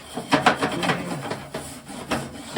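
A grill surface is scrubbed clean with a few firm, close rasping strokes in an uneven rhythm, loud and alone without talk.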